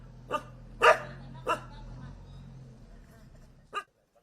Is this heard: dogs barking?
yes